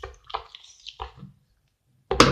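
Sticky homemade slime is stirred with a spoon, giving wet squishy squelches and drips up close in a few separate bursts, with a louder sloppy squish at the end.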